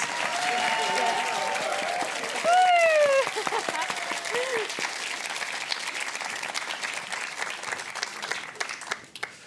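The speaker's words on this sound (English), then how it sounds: "let's give a huge round of applause for our expert judges" Sustained audience applause for the expert judges at a university dance show, loud and dense throughout, with a few whoops and cheers rising over the clapping before it slowly tapers.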